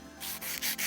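A nail buffer rubs over glitter nail polish in four short, soft scratchy strokes with brief gaps between them. No one speaks.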